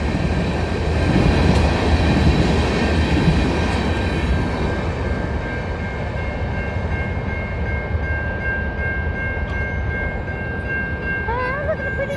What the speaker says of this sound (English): that was a long ass train